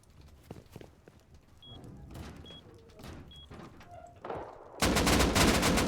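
Gunfire in the survival game Rust: scattered sharp shots and mechanical clicks build up, then a sudden loud sustained burst of rapid automatic fire closes out, close and harsh.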